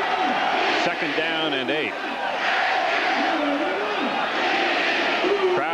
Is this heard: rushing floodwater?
no